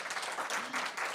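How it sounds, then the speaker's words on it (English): An audience at a university event at Seton Hall claps for a guest speaker, a dense burst of steady applause filling the brief moment with no voices over it. "I'd like you all to please clap once more for our guest."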